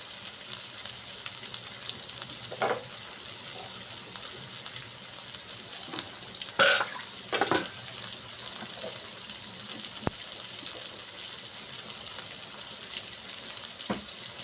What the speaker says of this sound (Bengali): দেখো সবজিটা হালকা ভেজে নিলাম।